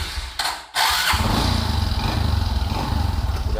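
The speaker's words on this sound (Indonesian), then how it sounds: "Jadi langsung kita coba saja tuh starter awalnya ya, kita langsung coba." A Honda Karisma motorcycle, restored after heavy mud damage, cranks briefly on its starter, then catches and settles into a steady, close, pulsing idle.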